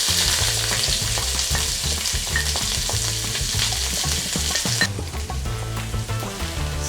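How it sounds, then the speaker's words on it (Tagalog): Garlic and onion sauté in hot cooking oil with a loud, continuous crackling sizzle, close up, steady throughout and broken by frequent spatula scrapes and stirring knocks against the pan. "Igigisa natin yung bawang. Sunod na natin yung sibuyas."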